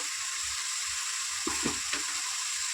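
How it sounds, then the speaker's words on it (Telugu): Coriander seeds, cumin and tamarind fry in a little oil for an Andhra-style cabbage pachadi, giving a soft, even sizzle with a few quick stirring scrapes near the end. "ఆయిల్ వేసేసాను. కొంచెం 2 స్పూన్ల ధనియాలు, 1 స్పూన్ జీలకర్ర, కొంచెం అంత చింతపండు,"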